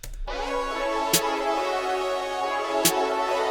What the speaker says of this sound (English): you generally place a snare on every downbeat